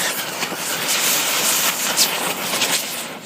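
An oxy-acetylene torch roars steadily with a hiss as it cuts and melts through a metal pipe, close and loud, with small crackling pops along the way.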